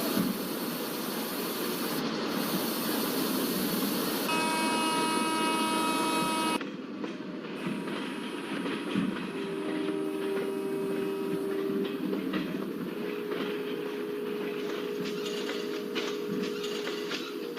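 Nagarcoil Express train slowing down, a steady rolling rumble with faint wheel squeal and brief tonal whines, heard close from on board as the pace eases.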